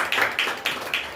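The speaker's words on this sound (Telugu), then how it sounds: "గట్టిగా చప్పట్లు కొడతాం ఒకసారి." A church audience at a Christmas programme claps loudly together in a few quick bursts of hand claps, close and bright, with no talk over them.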